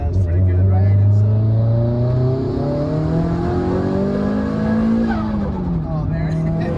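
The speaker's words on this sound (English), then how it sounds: "so you can hear this turbo blow off valve" Turbocharged Nissan Silvia Spec R S15 drift car revving hard nearby, its engine note sweeping up and down with a hiss of air, as a voice talks over it.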